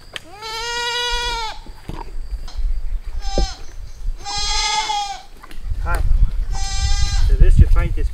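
Dairy goats bleat loudly and close by in several long, wavering calls, with a person talking and handling noise in between during bathing on a farm.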